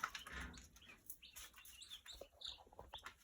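Broiler chicks give short high chirps and peeps, scattered and irregular, close by over a soft background rustle, with no one talking.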